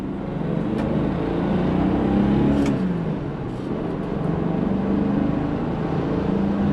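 A 1966 Mercedes W111 250SE coupe with a four-speed manual autocrossing around cones, its engine steadily revving and easing off as it weaves, heard from inside at moderate loudness with no talk.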